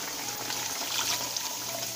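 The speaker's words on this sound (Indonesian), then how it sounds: "kita masukkan air." Water poured from a glass into a cooking pot of spices sautéed until fragrant and just starting to bubble, for opor ayam and sambal goreng kentang; a steady, close splashing rush fills the whole moment without any talk.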